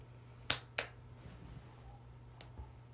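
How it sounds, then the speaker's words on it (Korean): A few sharp claps ring out along with quiet background music, two close together and then scattered softer ones. "이거 길에서 듣고 있으면 저도 모르게 이렇게 박수치게 된다."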